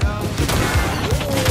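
Rapid video game gunfire, a fast string of loud bursts and repeated shots running throughout the short stretch, close and dense, with faint voices mixed underneath.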